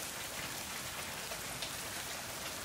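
Heavy rain pours down outdoors in a dense, even roar of drops hitting surfaces, steady and loud throughout with no voices.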